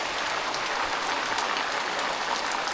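Heavy monsoon rain pours down in a Konkan village, a dense, even hiss of drops hitting surfaces that holds steady without a break.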